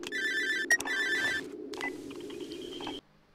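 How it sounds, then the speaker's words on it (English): A telephone rings in the horror video game Cry of Fear, sounding as a repeated electronic bell trill in two bursts, fairly close and clear over a low ambient hum, ending abruptly. "Phone rings."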